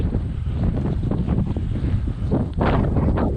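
Steady wind buffeting the microphone outdoors in North Dakota, a constant low rumble with gusts swelling louder near the end, no voices.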